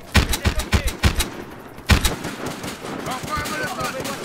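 Rapid gunfire bursts from a multiplayer Battlefield Hardline match, a quick string of loud close shots followed by another sharp report, then a busier wash of distant fire and game noise.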